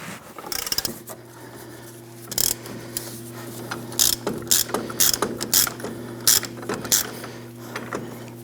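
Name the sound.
ratcheting tool backed off after pressing Jeep ball joint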